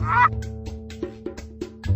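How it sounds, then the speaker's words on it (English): A goose gives a short series of nasal honks, one loud call followed by several quicker, fainter ones in an uneven rhythm, close and alone. "It's a goose!"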